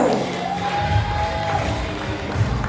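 Graduation audience cheering and clapping for a graduate walking on stage at an Apex Education NGSA ceremony, a steady crowd roar with whoops and scattered thuds, loud and sustained throughout.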